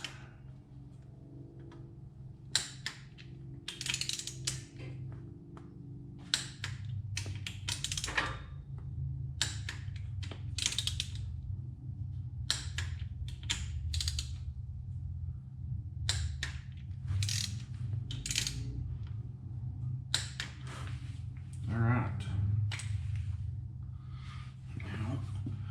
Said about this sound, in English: Alright, so got a torque wrench. It calls for 9 foot-pounds.